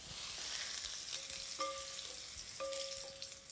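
Tofu browning in oil in a hot pan, a steady close sizzle and crackle throughout, with faint tonal clinks now and then.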